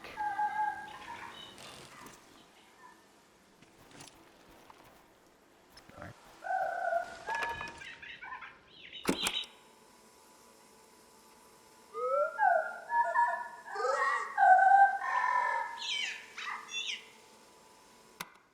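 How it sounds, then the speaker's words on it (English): Bird calls in a video game ring out in scattered short bursts, with a denser, busier cluster of chirping toward the end and quiet gaps between. "This bird sounds like a genius."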